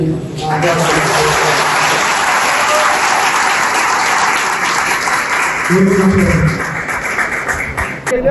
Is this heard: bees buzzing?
no